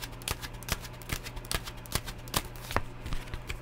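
Tarot cards are shuffled by hand in a rapid, uneven series of crisp flicking riffles and taps, close up and dry, with no talking.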